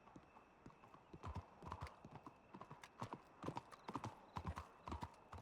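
Horse hooves clip-clop steadily on the ground in Red Dead Redemption 2 roleplay, a rhythmic run of close, fairly loud hoofbeats with a faint whinny, no voices over it.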